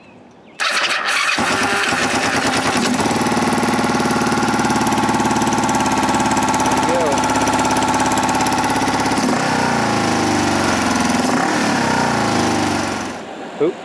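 A Kawasaki Ninja EX500 motorcycle engine cranks and fires, then runs at a loud, steady idle close by for about twelve seconds before cutting off.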